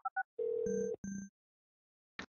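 Telephone call tones in the video game Orwell: two short beeps, then a steady dial-like tone with a second overlapping tone, repeated briefly, followed by silence and a short final click, clear and alone.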